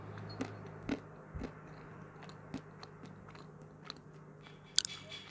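Someone chews a creamy dried snack close to the microphone, soft crunches and bites at irregular intervals in an otherwise quiet room, with one sharper snap near the end.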